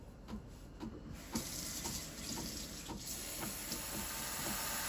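Steam wand on a Breville Barista Express BES870 espresso machine building up: a faint, broad hiss that grows steadily stronger and more constant, with a few soft clicks and sputters at the start.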